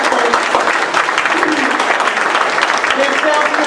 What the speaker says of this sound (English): Let's everybody give a round of applause to those who have offered